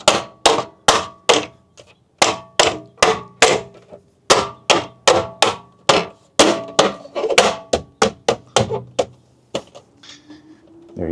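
Uberturbine-style wheel cover being popped onto a Tesla Model Y Juniper wheel: a long series of sharp, loud plastic knocks and snaps, roughly two or three per second, close up, then softer clicks and rustle at the end.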